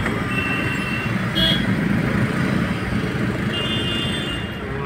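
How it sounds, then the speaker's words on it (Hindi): Dense traffic on a busy market road in Haldwani, Uttarakhand, with cars, trucks and buses rumbling steadily close by and a brief horn toot, voices mixed into the continuous roadway noise. "तो बाजार के अंदर मिल गया हमको ट्रैफिक।"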